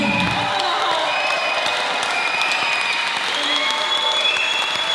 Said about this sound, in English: Once more, if you don't mind, give everybody a wonderful round of applause.